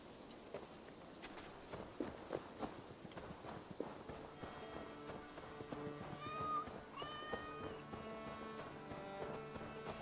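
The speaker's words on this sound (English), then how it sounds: "There's a random cat standing right there." A cat in Assassin's Creed Valhalla gives several short meows over soft padding footsteps and light clopping steps, fairly quiet within the game's ambient background.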